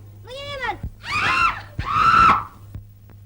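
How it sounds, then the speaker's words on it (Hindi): An old woman's anguished screams in a 1951 Hindi film scene of soldiers' oppression, three long, loud wailing cries in quick succession with short breaks between them, no talk over them. "बुढ़िया की चीख अभी तक मेरे कानों में गूंज रही है।"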